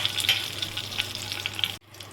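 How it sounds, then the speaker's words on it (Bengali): Bay leaves and garam masala frying in hot oil in a kadai, a short steady sizzle close by that cuts off abruptly near the end. "তেল দিয়ে আমি 2টো তেজপাতা আর এই যে গরম মশলাটা এতে দিয়ে দিচ্ছি।"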